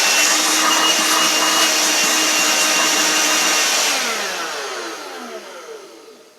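A Vax Gator handheld vacuum cleaner runs with a loud, high whining motor that holds steady, then spins down with a falling pitch as it switches off.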